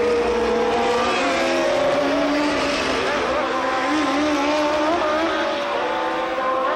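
Formula 1 race cars at Monza during the 1981 Italian Grand Prix roar past, engines whining steadily with shifting pitch as several machines blend into a continuous loud drone.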